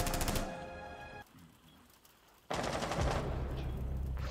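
Rapid video game gunfire crackles in dense automatic bursts, loud and close, breaking off for a moment before another sustained volley with a low rumble underneath.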